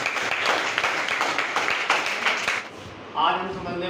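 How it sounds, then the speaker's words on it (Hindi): A crowd applauds with dense, steady clapping that may carry cheering. It stays loud for about two and a half seconds, then fades out before a brief voice-like sound at the end. "ताली बजाएं।"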